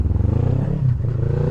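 A motorcycle with a broken clutch cable restarts and pulls away in first gear, its engine chugging with a close, steady low throb and clattering, then rising briefly as it moves off, with no voices over it.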